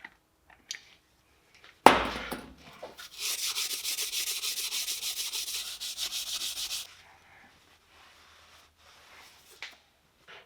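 Front brake parts on an Opel Zafira are scuffed with a wire brush: a few short knocks, then about five seconds of close, harsh rhythmic scratching that stops abruptly, followed by faint handling noises.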